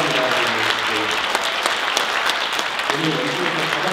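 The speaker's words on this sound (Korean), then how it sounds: "박수 한번 부탁드립니다" Audience applause at a Korean art song concert, steady dense clapping from a seated crowd sustained for the full four seconds at even loudness.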